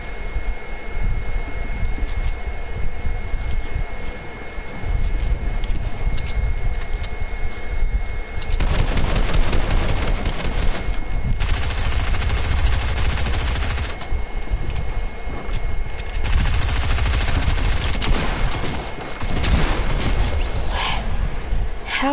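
Gunfire from a shooter video game in which a blue pump shotgun is used: loud, rapid bursts and sustained fusillades of shots come close together over a constant mechanical hum, with no talking.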